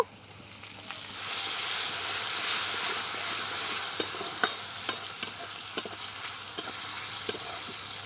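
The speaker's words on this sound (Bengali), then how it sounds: "শুকনো লঙ্কা দিয়ে দেব গোটা জিরেটা দিয়ে দেবো কুচানো পেঁয়াজ দিয়ে দেব লবণ দেব টমেটোগুলো দিয়ে দেব" Dried red chillies, whole cumin, chopped onion, salt and tomatoes hit hot oil in a pan. A loud hissing sizzle swells up after a second and holds steady, with regular sharp spatula clicks near the end.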